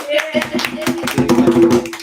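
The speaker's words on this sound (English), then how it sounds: "give Mommy a round of applause" A small family group claps for Mommy at a Thanksgiving music session, a short burst of uneven hand claps mixed with voices and a sustained tone.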